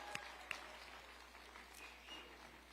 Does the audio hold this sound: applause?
yes